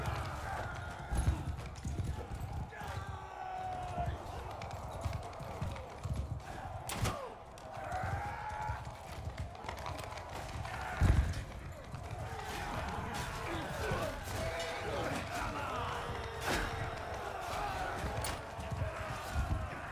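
Horses galloping in a medieval battle in the game Mount and Blade 2 Bannerlord, with rapid clip-clop hoofbeats, occasional whinnies and battle clatter, a dense busy mix with thuds throughout.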